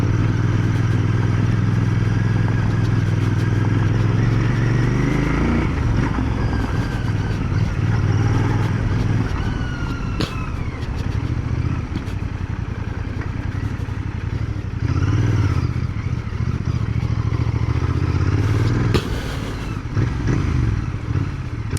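A 2025 Royal Enfield Bear 650 scrambler with rear ABS switched off, ridden with the rear wheel skidding: a loud, close engine drone under heavy wind rush, with revs rising and falling and a few clattering thumps.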